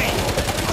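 Automated turret fire in the World War Z Aftermath video game, a dense continuous rattle of rapid shots that stays loud and steady through the brief moment, with a voice mixed faintly underneath.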